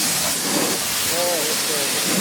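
Oven cleaner sprays from an aerosol can in a loud, continuous hiss that lasts the full couple of seconds, close and steady with no break.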